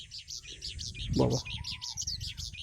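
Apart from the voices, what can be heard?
various birds calling at a campsite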